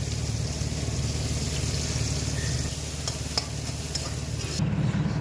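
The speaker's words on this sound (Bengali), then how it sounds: "ওই তেলে এবার গোটা গরম মশলা দিয়ে লো আঁচে রেখে জিরে ফোড়ন দিয়ে এটাতে এবার পেঁয়াজ কুচি দিয়ে অনবরত নাড়াচাড়া করতে হবে।" Chopped onion fries in oil with whole garam masala and cumin over low heat, a soft steady sizzle under intermittent stirring clicks, close by and with no talking.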